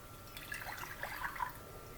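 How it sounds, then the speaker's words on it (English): Water being poured into a pan for making traditional Cuban coffee, a soft, brief liquid splash and trickle heard up close for about a second, with no talking. "pour the water into the pan"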